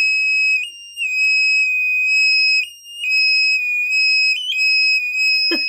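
An active buzzer from an Elegoo Arduino Uno R3 starter kit emits a loud, piercing steady tone, holding for several seconds with brief wobbles and small breaks, alone without talk.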